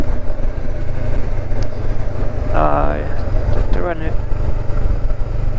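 A Honda CB500X motorcycle rides through Dartmoor National Park, its engine and wind rumbling steadily and fairly loud throughout, with someone talking over it partway through.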